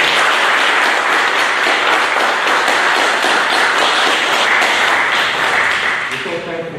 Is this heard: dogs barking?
no